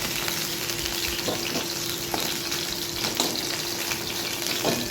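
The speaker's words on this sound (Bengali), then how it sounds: "এদিকে পটলগুলো ভাজা হয়ে গেছে আমি নামিয়ে নিচ্ছি" Pointed gourd (potol) frying in oil in a pan, a steady close sizzle with occasional crackles and stirring scrapes, no talk.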